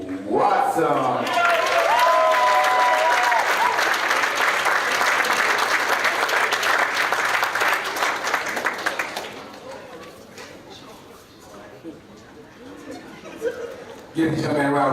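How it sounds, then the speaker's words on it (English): A high school sports banquet audience applauds and cheers, loud sustained clapping with whoops and voices for several seconds before fading into quieter murmur, then a brief swell again. "Give this young man a round of applause, please."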